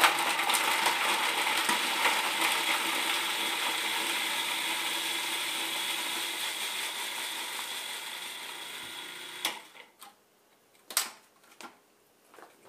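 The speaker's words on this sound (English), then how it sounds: "Just drop all these ingredients in your food processor." A food processor whirs through sauce ingredients for a Bolognese, a loud steady mechanical drone with a rattling edge for about nine seconds, then it stops, followed by a few sharp knocks and clatters.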